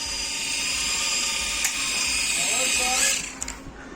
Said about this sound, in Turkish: Adana güvercinleri matkaba alıştığından dolayı matkap kuşları çağırıyor